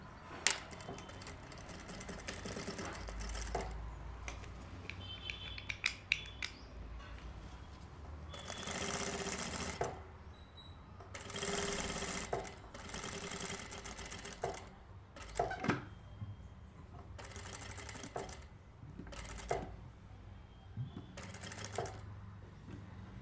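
A sewing machine stitches fabric for a baby kurta pant set in short, fairly quiet bursts of rapid mechanical chatter, separated by pauses and small handling clicks.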